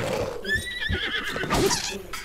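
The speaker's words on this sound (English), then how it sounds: "I know, I just hit my horse, like," In the Breath of the Wild video game, a horse lets out a loud, close neigh with a rising and falling whinny, followed by snorting and hoof clatter.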